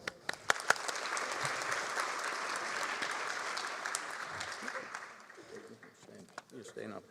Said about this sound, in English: All of the district's teachers deserve a round of applause for all they do for our children.